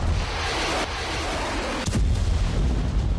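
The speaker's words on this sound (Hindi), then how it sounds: "डोनेस्क के वॉर ग्राउंड में भीषण बारूद बरस रहा है।" Artillery shelling on a Donetsk battlefield rumbles as a deep, sustained roar, with a sharp blast cutting through near the middle before the low booming continues.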